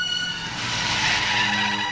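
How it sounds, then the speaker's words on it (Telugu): A car brakes to a stop with tyres skidding, a continuous loud screeching squeal over engine rumble lasting under two seconds in a film scene. "డ్రైవర్ కారాపు"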